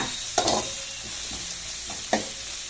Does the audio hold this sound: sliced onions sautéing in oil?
yes